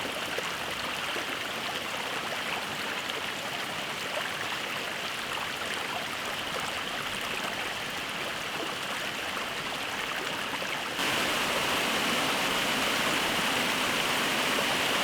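Spring snowmelt water rushes along steadily in a constant close wash, growing a little louder near the end, with no voices.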